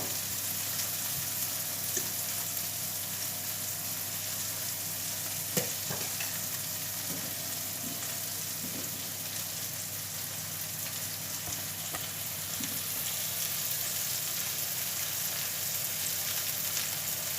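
Beef meatballs frying in a pan, browned on their sides before being simmered in tomato sauce: a steady, even sizzle with occasional soft clicks and scrapes as the pan is handled.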